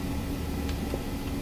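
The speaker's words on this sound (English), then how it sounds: "Don't mind the heater." An old blast heater drones in a steady broadband whoosh with a low hum, running continuously and fairly close.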